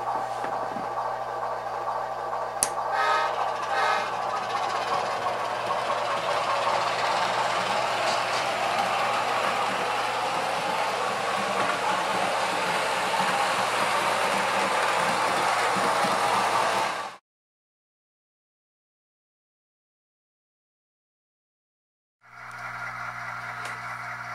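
A DCC-equipped HO model locomotive's engine sound runs as a steady, dense diesel-like rumble and whine with faint clicks, then cuts to complete silence before the engine sound starts up again near the end.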